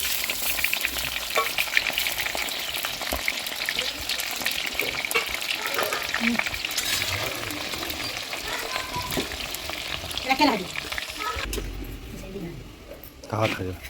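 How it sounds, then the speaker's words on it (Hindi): Vegetables fry in a large wok on an outdoor stove, a steady loud sizzle with stirring scrapes throughout, and a voice talking over it. "ननद जी यहाँ पर सब्जियों को फ्राई कर रही हैं"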